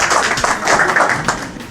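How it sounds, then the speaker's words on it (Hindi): Brief, close applause from a small audience during a quiz session, a quick cluster of distinct, uneven hand claps rather than a dense roar. "बहुत जोरदार तालियां हो जाए भाई साहब के लिए"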